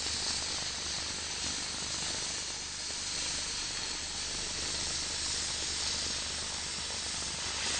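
An oxy-fuel cutting torch slices through steel plate by hand, giving a steady, loud, unbroken roaring hiss of the oxygen jet and flame from start to finish, with no voices.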